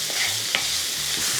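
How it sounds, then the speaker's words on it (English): Onion frying in hot oil in a pan, a steady broad sizzle with a few stirring scrapes and clicks running through the short stretch, close and moderately loud with no talking. "Add in the onion,"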